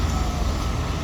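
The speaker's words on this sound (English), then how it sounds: "you got the sirens back there now." Emergency vehicle sirens sound over low, steady traffic rumble, loud and continuous through a short stretch with no talk.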